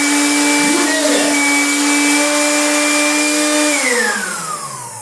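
A countertop blender turning carrots into juice runs with a loud, steady motor whine that holds for about four seconds, then slows and winds down near the end.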